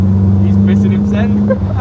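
Mini fitted with a fabricated shorty exhaust on a road test, a steady low engine drone holding on throughout with a brief dip near the end, people talking over it.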